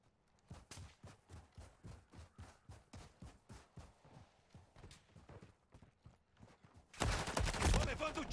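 Gunfire strikes the player in Call of Duty: Modern Warfare 3, a steady run of sharp, evenly spaced shots pounding close, then a sudden loud dense burst of noise at the end.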